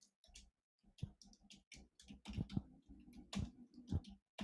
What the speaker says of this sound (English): Just typing this out for Telegram.